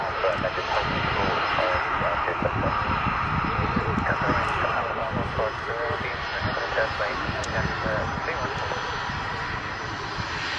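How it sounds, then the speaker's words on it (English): An executive jet, a Challenger 850, lands at Manchester Airport, its engines giving a steady, broad roar at moderate distance throughout. "it was a executive jet that landed"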